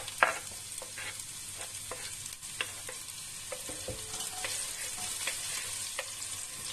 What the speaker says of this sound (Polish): posiekałam sobie już cebulkę, czosnek i por i teraz wrzucam to na rozgrzane już masło